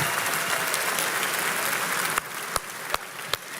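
A church congregation applauds in a dense, sustained wash of clapping that thins toward the end into a few separate, sharper claps.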